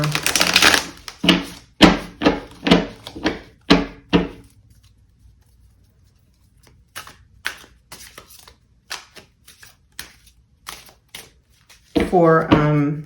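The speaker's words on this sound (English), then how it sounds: "I am going to shuffle the cards here." Brisk riffling and snapping of cards in several quick bursts, then softer sporadic flicks, with a voice starting at the very end.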